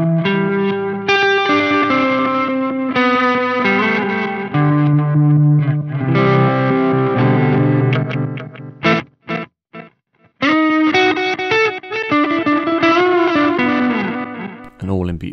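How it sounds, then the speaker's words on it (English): Electric guitar played through a Chase Bliss Reverse Mode C pedal set between reverse and forward delay, with chords and melodic lines swelling into layered, echoing repeats that stay loud and dense and briefly drop out before picking up again. "if we go in between reverse and forward, we're going to get reverse and forward delay"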